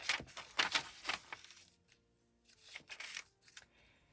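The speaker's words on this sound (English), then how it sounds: "For this one, we're going to go ahead and cut our page down." Scissors snip through a paper book page in a craft project, a close series of quick crisp cuts in two bursts separated by a short pause, quiet with no talking.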